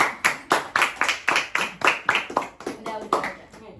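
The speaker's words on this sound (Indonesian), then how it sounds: "Tepuk tangan untuk saya." Hands clap in a brisk, even rhythm, about a dozen crisp claps in under four seconds, close and fairly loud, at a casual group chat session.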